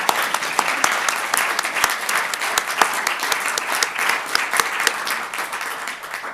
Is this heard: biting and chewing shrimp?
no